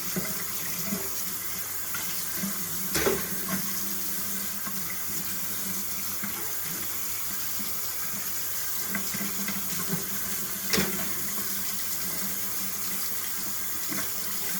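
Tap water runs steadily into a kitchen sink while plastic model kit parts are rinsed, a continuous close splashing stream with a couple of brief clunks of parts against the basin.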